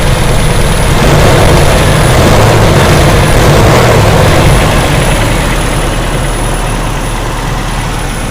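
A car engine runs loud and steady at close range, a constant low drone that eases off slightly toward the end, with no talking.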